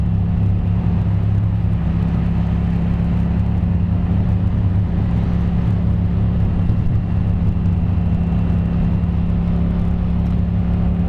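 A Yamaha FZ-07/MT-07 motorcycle out on a road ride, its engine a steady, close, low droning rumble mixed with wind noise, holding an even level throughout without clear revs or pauses.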